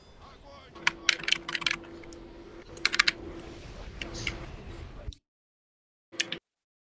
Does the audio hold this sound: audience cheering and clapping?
no